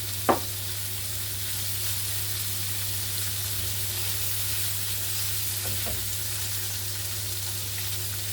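Steak sizzles steadily in a frying pan, browning as the first step of a steak and oyster pie, with a continuous close hiss and a couple of faint clinks near the start.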